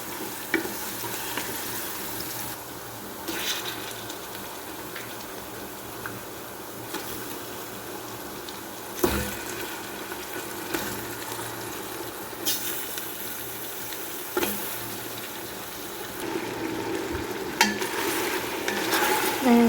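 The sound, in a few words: meat frying and being stirred with garlic and ginger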